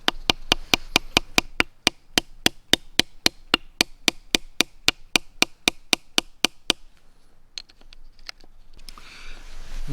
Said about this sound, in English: I hammer those into the wood or a flat log just to hold the stone steady.